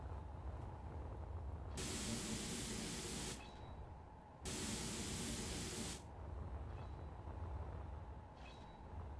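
Spray painting of armor blocks in the video game Space Engineers gives two long, loud bursts of hissing spray, a few seconds each, over a steady low hum with no talk.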